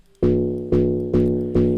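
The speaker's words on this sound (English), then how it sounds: "Then I have this log drum sample that sounds like this." Four evenly spaced hits of a resonant Afrobeats log drum sample, each a deep pitched tone with a bright attack and a short decay, loud and alone.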